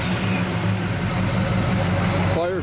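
1966 Chevrolet Chevelle 396 with a 4-speed idling, a steady loud low rumble under constant engine noise, with a brief voice-like warble right at the end.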